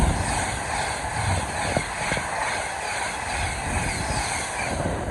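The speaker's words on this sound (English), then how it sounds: "Pass through now is a 390 Pendolino from Glasgow Central to London Euston" A Class 390 Pendolino electric train runs through Nuneaton station on the West Coast Main Line, a steady broad rumble with a few faint clicks from the wheels, close by and continuous with no talking.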